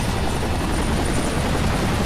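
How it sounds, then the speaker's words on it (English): Helicopter rotors chop steadily and loudly throughout from the Viewtiful Joe video game, with a dense, continuous whirring drone and no voices. "now we got 2 of these helicopters to deal with."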